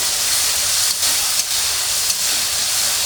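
Prawns seasoned with salt and turmeric frying in hot oil in a pan, producing a loud, dense, continuous sizzle that barely changes throughout.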